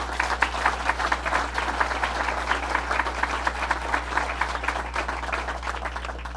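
Audience applause for legislators at a governor's announcement in a children's hospital, a dense steady clapping that fills the room evenly and holds at a constant level throughout.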